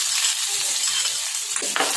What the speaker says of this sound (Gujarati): સમારેલી એક ડુંગળી એડ કરીશું